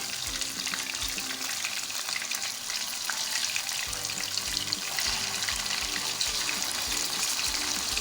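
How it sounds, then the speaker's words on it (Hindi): Fish pieces frying in hot oil in a pan for biryani: a close, constant crackling sizzle with bursts of spatter and low clattering as the pieces are moved, alone without voices. "और इसको हम 1 से 2 मिनट के लिए इसी तरह से हम फ्राई करेंगे।"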